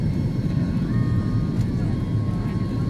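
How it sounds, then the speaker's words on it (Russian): A passenger airliner takes off near the sea, heard from inside the cabin as a loud, steady engine roar with a faint whine riding above it. "Самый любимый момент в любом полете. Момент взлета."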